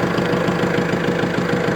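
A Kubota L4701 tractor's diesel engine runs close by at a steady idle, with an even, knocking low throb that stays constant throughout.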